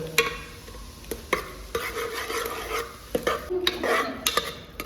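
Turmeric and mutton masala spices sautéed and stirred in a pan over a wood-fired stove, with repeated scraping strokes of a spoon against the pot and a soft, steady sizzle beneath; no talking.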